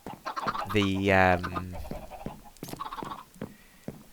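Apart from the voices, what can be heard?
chickens clucking in a video game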